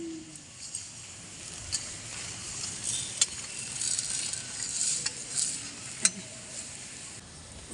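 Spices frying in a pan, a faint steady sizzle with occasional sharp clicks and scrapes of a spoon against the metal.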